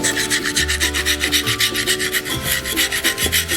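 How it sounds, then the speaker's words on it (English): A hand tool scrubs soapstone during carving, producing a steady, close rasping rub that repeats in quick, even strokes under constant pressure with no talk. "If you're not seeing that dust when you're scrubbing, you might want to change the way that you're carving that stone."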